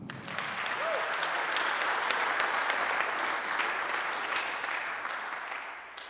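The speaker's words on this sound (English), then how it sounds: "Please give them one more round of applause." Sustained audience applause fills a public program hall on youth incarceration, a dense, steady wash of many hands clapping that holds for several seconds before easing slightly at the end.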